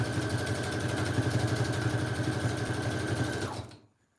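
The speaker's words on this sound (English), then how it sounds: "I'm gonna sew across the top." Domestic sewing machine stitching across the top of a fabric-covered cereal-box journal, a steady fast mechanical whir at close range that runs for several seconds and then abruptly stops.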